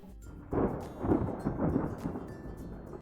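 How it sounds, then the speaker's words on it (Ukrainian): A thunderclap breaks with a sudden onset and a low, heavy rumble that rolls on for a few seconds, with a faint rain-like hiss in the background. "А коли гаряче повітря стискається та змішується з холодним, то лунає грім."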